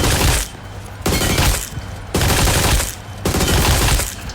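An AUG rifle firing in the video game PUBG: four loud bursts of rapid automatic fire, each about half a second long, separated by brief pauses, close and dense with no talk.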